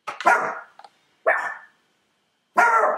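Three sharp dog barks ring out close by, separated by short silent gaps, with a few small yips between the first two.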